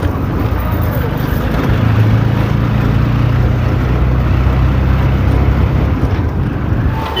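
An auto rickshaw ride from a station to Nimpith brings a steady close engine drone and rumbling road noise, with wind buffeting the microphone the whole way.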